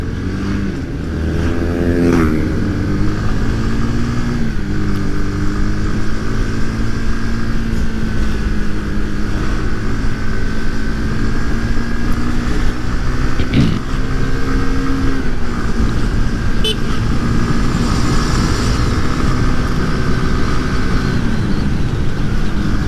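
A motorcycle engine drones steadily and loudly while riding through congested traffic, its pitch climbing briefly near the start, then holding a continuous close hum.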